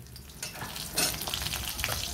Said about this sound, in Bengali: আমি প্রথমে ডালের বড়িটা ভেজে নেব